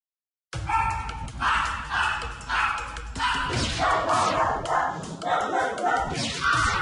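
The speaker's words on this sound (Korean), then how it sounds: "평화로웠던 이 아파트가 주민들 간의 전쟁터가 된 건 바로 개 짖는 소음 탓이었습니다." A dog barks inside an apartment, repeated rapid yaps and barks in quick bursts, loud and close, with voices mixed in.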